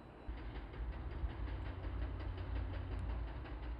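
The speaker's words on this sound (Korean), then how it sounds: "전차선 설치 작업 전동차가 들어오고 있다" A catenary-installation railcar arriving on the track at night, a low steady engine rumble and mechanical drone that swells slightly as it approaches, no voices.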